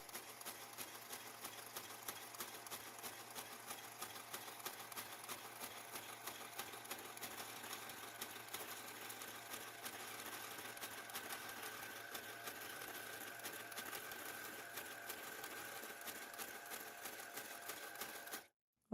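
A knitting machine carriage working rows of a dog sweater sleeve, a dense steady mechanical clatter and whir running continuously at close range, then stopping abruptly at the end.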